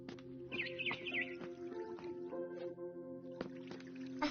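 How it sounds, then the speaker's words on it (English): Barn swallow chirping near a nest in the video game What Remains of Edith Finch, bright repeated twittering calls over a steady tonal game ambience with soft drips and clicks. "Then I heard chirping outside my window."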